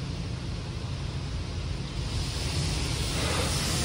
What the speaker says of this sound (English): Getting a high pressure wash again.